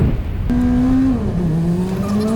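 Cars stuck in a traffic jam in a road tunnel give a steady, close engine drone, with a sustained humming tone that holds and then slides lower over a couple of seconds.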